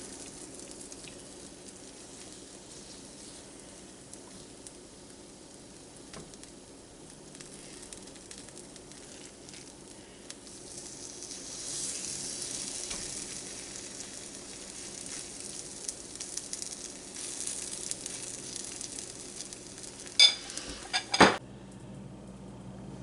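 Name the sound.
corn fritters frying in cast iron pan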